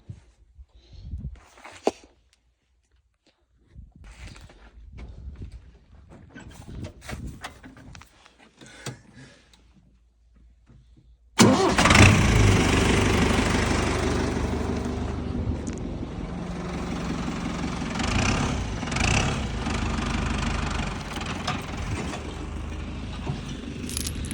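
A tractor engine in a wheat field starts abruptly after quiet stretches of scattered knocks and movement, then runs loud and steady close by, filling the rest of the recording.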